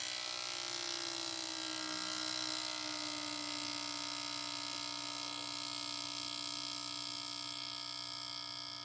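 Subaru Sambar fuel injectors fire on a test bench at high speed, a steady, close electric buzzing whine with fixed tonal hums that holds level for the whole stretch.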